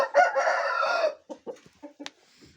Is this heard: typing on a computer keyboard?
no